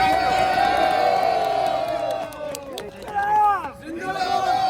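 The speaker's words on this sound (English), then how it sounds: "We'd like to give them a round of applause" A crowd at a Detroit protest against the NRC, CAA and NPR in January 2020 cheers and whoops, with sustained shouted voices and rising, falling yells over a rumble of crowd noise.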